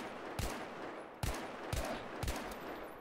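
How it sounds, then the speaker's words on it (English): Sniper rifle shots in a Battlefield video game, an SKS among them, crack out as several sharp, loud reports spaced irregularly over a steady background rumble, with no talking. "Hostile sniper fire in your area"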